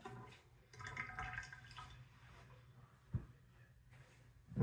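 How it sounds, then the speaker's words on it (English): Tap water running while a hand is rinsed after shaving with a Gillette Tech razor: faint, uneven splashing and trickling with a few louder splashes, close by and quiet overall. "I'm going to rinse my hand off again"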